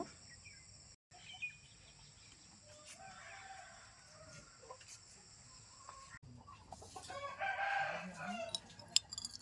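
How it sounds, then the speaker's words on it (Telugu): A rooster crows, fairly distant and moderately loud, after some scattered clucking and quiet background noise. "దీని కూత మాత్రం నార్మల్ కోడి పుంజులు కూసే కూత కన్నా డిఫరెంట్గా కూస్తుందండి"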